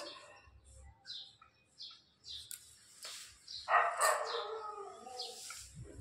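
Two small birds visiting a house chirp faintly in short, scattered bursts. The quiet, high twitters are separated by pauses, with a few low household sounds in between.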